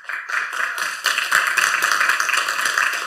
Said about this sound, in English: I'll pass on your applause to David at Hiri.